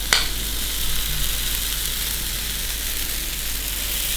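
A protein pancake cooks in a hot pan with a steady, loud sizzle that holds without a break after a brief initial spike.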